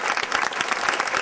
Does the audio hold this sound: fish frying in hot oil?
no